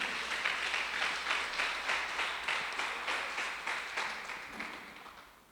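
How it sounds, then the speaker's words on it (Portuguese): Congregation applause during a church service, a steady broadband wash of many hands clapping in rhythmic surges, moderately loud and tapering off toward the end, with no talking over it. "Você pode dar um aplauso ao Senhor?"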